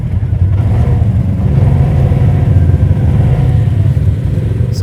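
An orange Polaris RZR XP 1000 side-by-side idles and rolls up on a trail, its engine a steady, close, rumbling drone with slight swells and no talking.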